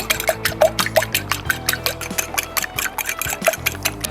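Eggs are beaten in a bowl for a fried eggplant dish, a rapid, steady run of close clicking strokes that goes on without pause.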